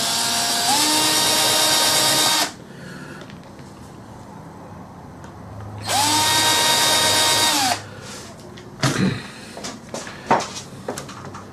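A power drill whines loudly in two steady bursts while drilling out a hole, each winding up and down, followed by a few short clattering knocks.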